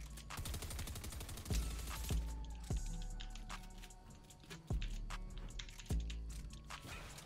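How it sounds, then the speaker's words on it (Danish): Gunfire in the video game Fortnite, heard as a series of sharp, irregular shots, some single and some in quick bursts, over a busy, faint game background. "Det er vildt langt skud på dig."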